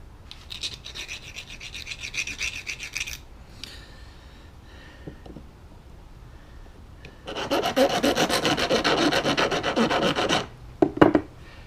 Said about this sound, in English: my plan is just to file that dag off and then, you know, deburr anything else that's on there with the nut as I remove it